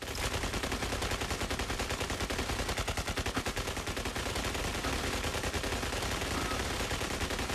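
Rapid autocannon fire in the mech combat game Mech Arena, a dense, continuous stream of loud shots hammering without pause throughout, with no speech.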